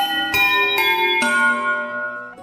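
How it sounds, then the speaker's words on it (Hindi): An old temple bell near a village rings in several bright metallic strikes, each leaving a long shimmering hum that slowly fades, close and fairly loud with no voices. "गांव के पास स्थित पुराने मंदिर की घंटी अपने आप बजने लगी।"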